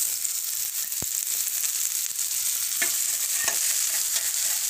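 Chopped tomatoes go into a hot pan with ground cumin, coriander, cardamom and cloves for a soybean curry, producing a steady close hiss of frying with a few sharp spoon taps, no talk.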